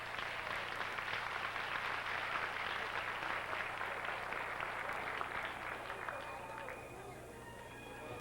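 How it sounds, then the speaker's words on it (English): A 1987 scholarship pageant audience applauds its contestants with sustained, even clapping from a large crowd, loud at first and then slowly tapering toward the end. "Let's give them all a nice round of applause."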